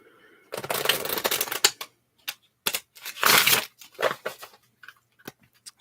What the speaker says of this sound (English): I feel like I need to shuffle your cards quite a bit